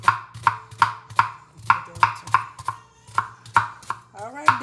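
A knife chops onions on a cutting board in a home kitchen, about a dozen sharp, steady strikes close to the microphone over a low hum, with faint music and a voice in the background.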